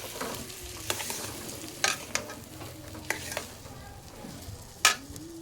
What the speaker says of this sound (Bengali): এখন এর মধ্যে আমি দিয়ে দিচ্ছি পেঁয়াজ টমেটোর পেস্ট, এটাকে দিয়ে আমি এখন কিছুক্ষণ নেড়ে নেব।